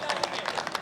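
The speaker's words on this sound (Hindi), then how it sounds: "एक बार जोरदार ताली बजाइए" Loud audience clapping at a live Hindi comedy stage show, a dense burst of hand claps close and steady across the whole short moment with no talk over it.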